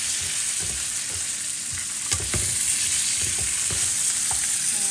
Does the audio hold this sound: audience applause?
no